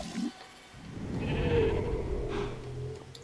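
A Minecraft sheep bleats on a game server in version 1.4.2, a nasal, wavering baa lasting a couple of seconds, fairly close, under quiet background noise.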